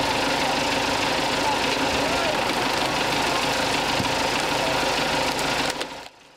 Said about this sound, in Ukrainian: Як тільки зникає живлення, до подрібнювача в допомогу приїздить трактор.